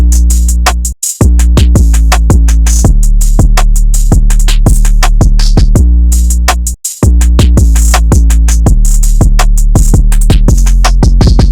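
A loud, punchy electronic drum beat made with synths and pedals in FL Studio, with booming kicks and crisp hits in a steady, fast rhythm, briefly dropping out twice.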